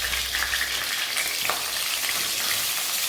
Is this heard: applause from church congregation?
no